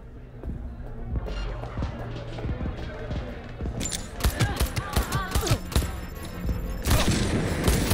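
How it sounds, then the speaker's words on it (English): Gunfire in the video game Cyberpunk 2077, with bursts of rapid shots and booms building into dense clustered volleys, loud and close, with voices heard intermittently. "Is that a gunshot?"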